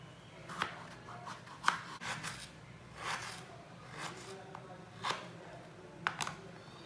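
A knife cutting a potato on a board in a home kitchen makes crisp chops roughly once a second, each a short, close knock against the board over a quiet background.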